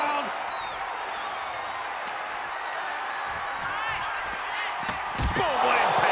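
A wrestler is slammed onto the ring mat, landing with one sharp heavy thud near the end over a steady roar of crowd noise.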